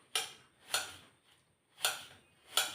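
Thin slices of breadfruit cut with a knife on a cutting board: four sharp, close knocks against the board, evenly spaced apart from one longer pause in the middle, with no voices.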